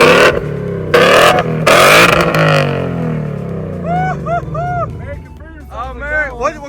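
Ford Mustang GT engine revving through an aftermarket exhaust, loud bursts of roaring revs near the start that fade into a lower idle as voices talk and laugh over it.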